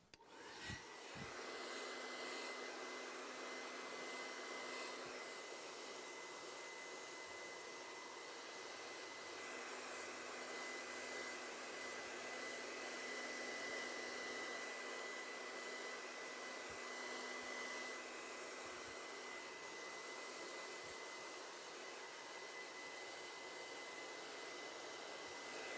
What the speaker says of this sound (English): I like to use a dryer with a nozzle on it so I can direct the heat